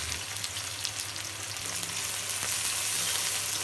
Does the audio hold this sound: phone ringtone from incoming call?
no